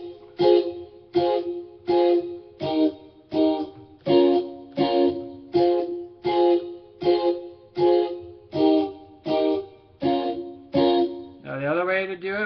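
Guitar playing a chord progression as short, evenly spaced strummed chords, about a dozen crisp stabs in steady rhythm, close and clear, finishing with a sliding chord change.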